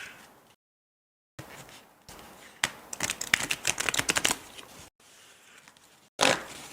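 A close, crisp flurry of rapid papery clicks and flicks as a tarot deck is shuffled, in several bursts separated by brief silences; no talking.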